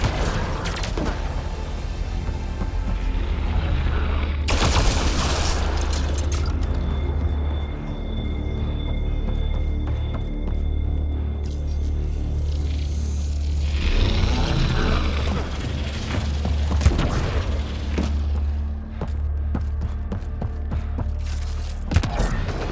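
Gunfire and combat in Mass Effect: Andromeda, loud bursts of shots and booms over a constant low rumble, with sharp noisy blasts breaking in now and then across a long stretch.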